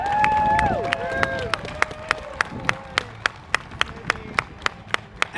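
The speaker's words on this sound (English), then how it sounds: "If the crowd could please give a round of applause for all of our hardworking," Audience applause at the Kings Dominion amusement park 40th birthday ceremony, starting with dense clapping and cheering that thins into sparse, evenly spaced claps, with a voice and some high tones briefly over the start.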